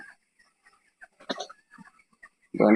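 A few scattered chicken clucks and soft rustles, then a louder burst of squawking at the end, with quiet gaps between sounds.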